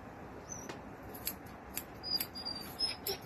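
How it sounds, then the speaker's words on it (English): Small scissors make a string of quick, light snips while trimming fur around a dog's face near the eyes, close and clear against a quiet room. "I'm just going to trim around the front here."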